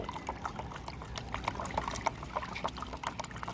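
Water is poured and stirred while mixing homemade fertilizer for lime trees, a continuous close splashing and trickling with bubbly, uneven bursts.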